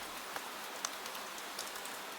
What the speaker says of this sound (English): the rain, perhaps, beginning somewhere far away